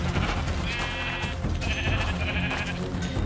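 Sheep in Minecraft bleat in several loud, nasal cries over a dense in-game background.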